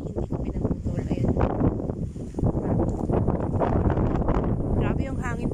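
Strong wind on a farm lot among pine trees buffets and roars in gusts across the whole stretch, with a person talking throughout the wind noise.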